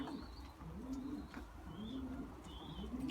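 Pet pigeons coo in a repeated, soft rolling rhythm, several calls close by over a steady low background hum, with a few faint higher chirps and no talking.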